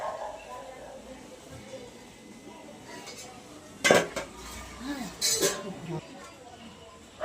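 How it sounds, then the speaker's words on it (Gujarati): Steel idli plates clatter and clink as they are set into a pressure cooker, with a couple of sharp metallic knocks standing out over faint background noise. "મૂકી દીધું અંદર હવે કુકરમાં"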